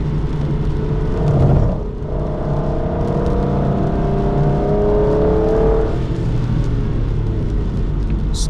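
An Aston Martin DB9 lapping a race circuit, its engine note steady and continuous throughout with a brief swell early on, heard from inside or close by with no talk.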